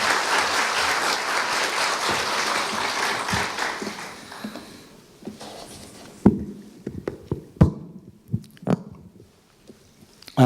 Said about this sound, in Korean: 큰 박수로 맞이하여 주십시오.